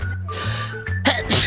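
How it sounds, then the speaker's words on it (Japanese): A single sharp sneeze from a woman, preceded by a hum and a short gasping intake of breath, loud and close with nothing else around it. "くしゃみ出そうかな。"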